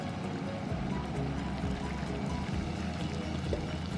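Water poured over short-grain rice in a pot for Central Asian plov, a steady continuous splashing pour that runs close and fairly loud throughout with no talk.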